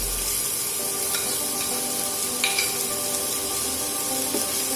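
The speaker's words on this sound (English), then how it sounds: "and give it a stir" Chopped onion and garlic sizzle in a hot pan, a steady dense hiss with a few light clicks of a utensil stirring, close and continuous without any voices.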